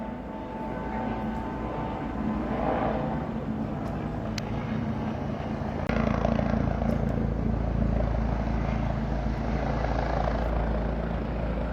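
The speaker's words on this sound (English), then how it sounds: "Finally, a helicopter." A helicopter flies over an area left damaged by Hurricane Helene. Its low rotor rumble is continuous and loud, and it grows heavier and closer partway through.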